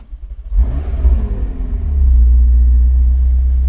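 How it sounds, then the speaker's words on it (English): McLaren 600LT Spider engine starting up: a click and starter whir, then the motor catches with a loud rising rev and settles into a deep, steady close-up idle rumble. "So to start it up, foot on the brake, start button, press,"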